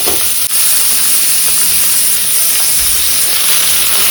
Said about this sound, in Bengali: চলো আলুটা ভাজা হতে থাক